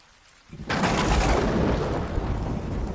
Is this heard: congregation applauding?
no